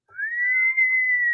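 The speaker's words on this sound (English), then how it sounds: "Or this whistle." A single whistle tone alone, sliding up briefly and then held steady and clear for just over a second before cutting off.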